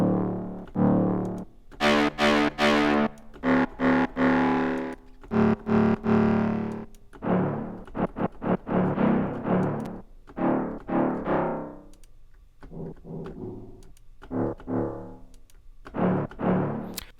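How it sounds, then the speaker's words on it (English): Low brass and woodwind bass layers from the Output Substance plugin are played as a series of gritty, distorted low notes in short bursts with brief gaps, alone without speech. "So we're going to take a look at the low brass and woodwinds right here."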